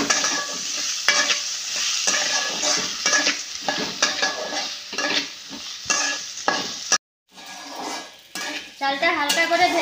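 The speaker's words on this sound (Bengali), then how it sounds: "চালটা হালকা করে ভেজে নিয়েছি" Gobindabhog rice with cardamom and bay leaves fries in a pan, a spoon scraping and stirring it in steady loud strokes with a constant sizzle and clinks against the metal, with one short gap near the end.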